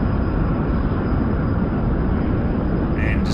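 Steady, loud jet engine roar at full power on afterburner during a take-off run, a constant broadband rumble throughout with a brief higher tone near the end.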